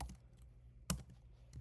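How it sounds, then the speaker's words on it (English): Java code is being typed on a computer keyboard: soft, faint key clicks in an irregular rhythm with one sharper, louder keystroke in the middle, close and quiet. "I really hope I don't type anything wrong here."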